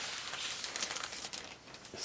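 A plastic bag crinkles close by as it is opened, giving a faint, steady rustle with small crackles and no talking.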